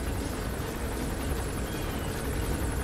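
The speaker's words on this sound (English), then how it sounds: "And the helicopter may notice." A helicopter in the video game Metal Gear Solid V: The Phantom Pain keeps up a steady, dense rotor and engine drone at a moderate distance, with no voices over it.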